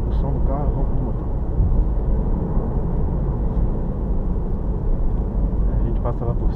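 A loud, steady engine drone with deep low rumble fills the cabin of a new BMW M3 Competition on a track, with brief snatches of voices near the start and end.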